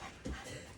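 Dogs panting with a faint whimper, a short stretch of breathy, close panting that swells briefly in the middle.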